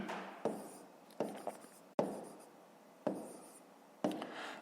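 A pen or pencil writes numbers by hand during a fifth-grade maths exercise, giving a few quiet scratchy strokes in short separate bursts, close and faint, with no speech.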